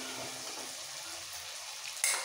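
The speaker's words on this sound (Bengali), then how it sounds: "এবার একটু ভালো করে কষিয়ে নিতে হবে।" Turmeric sizzling and frying in a pan while fish curry is cooked, a steady, even hiss of moderate loudness with a brief louder clatter near the end.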